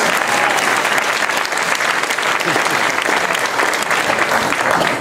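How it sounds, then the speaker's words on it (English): Sustained audience applause after a high school jazz band set at a seaside festival concert, a dense steady wash of many hands clapping at even loudness throughout. "would you give a round of applause to Alex?"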